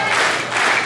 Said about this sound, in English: Crowd rallying behind Bandido Jr. early